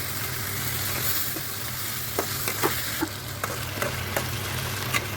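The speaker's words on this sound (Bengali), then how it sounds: "এই যে দেখুন মাশরুমটাকে সব মশলার সাথে মিশিয়ে নিচ্ছি" Mushrooms sizzle steadily in a pan with spices while a utensil stirs and scrapes, leaving scattered clinks and taps over a constant frying hiss and no voices.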